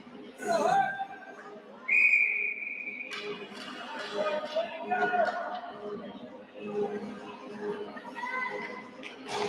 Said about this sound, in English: Sounded like a whistle that came from off the ice.